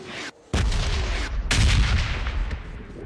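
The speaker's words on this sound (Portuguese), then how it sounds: "Ele atira, mano." Heavy gunfire in PUBG Mobile, a short gap and then loud sustained shots and booming reports that keep going with no break.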